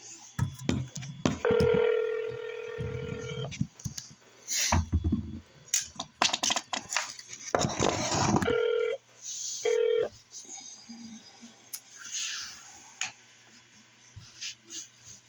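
A landline telephone call dials out with DTMF key tones and clicks amid intermittent voices, then the line drops away to near quiet at a jail.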